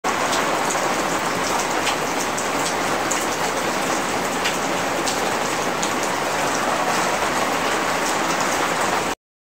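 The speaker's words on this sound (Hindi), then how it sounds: "बारिश बहुत तेज चल रही है" Heavy rain pouring down in Lahore, Pakistan, a dense, steady hiss of drops on surfaces that continues unbroken and loud, then cuts off abruptly.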